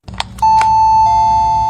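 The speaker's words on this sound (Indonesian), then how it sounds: "Ku beranikan menekan bel itu" A house doorbell is pressed at a front gate, a few quick clicks and beeps followed by a loud, sustained electronic tone that shifts pitch once and holds.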